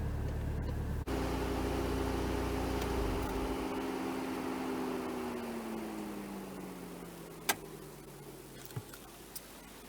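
A VW Golf 7 R with a 2-litre turbo engine idles and then winds down, a steady low drone that slowly falls in pitch, with a few sharp ticks near the end and no talking.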